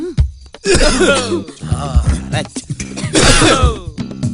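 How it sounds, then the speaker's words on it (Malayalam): Several forced coughs and throat-clearing noises, loud and close, run back to back with raspy, strained bursts. "ചുമക്കാൻ മറക്കരുത്, ടൈമിംഗ് ആയിരിക്കണം."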